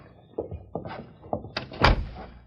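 An old-time radio drama door is tried and opened: a short run of close knocks and thunks of a handle and latch, ending in a louder clunk as it gives way.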